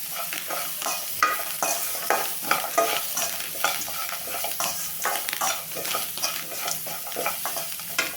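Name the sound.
stirring gooseberry chutney mixture with salt and coriander in a pan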